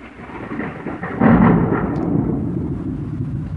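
Thunder rolls through a thunderstorm in Naples, Florida: a deep rumbling boom swells after about a second and keeps grumbling under steady rain, fairly close and loud, with no talking.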